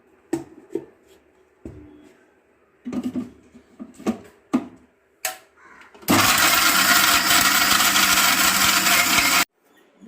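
An electric kitchen mixer grinds grated coconut with cardamom, starting abruptly after a few clicks and knocks of handling and running loud and steady for several seconds before stopping.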